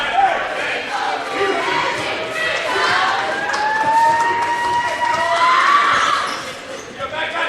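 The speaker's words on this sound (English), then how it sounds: "They being very loud as he shoots those free throws, and now Spires will come up the court" Loud basketball arena crowd roaring and yelling steadily as a St. Francis player shoots free throws against Judson, the din sustained at close range before easing near the end.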